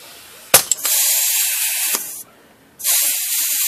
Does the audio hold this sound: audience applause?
no